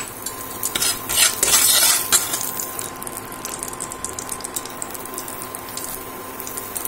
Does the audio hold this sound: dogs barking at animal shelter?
no